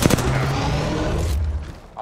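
Dense gunfire from a video game battle, a rapid burst of loud overlapping shots that fades into a rumbling tail within about two seconds.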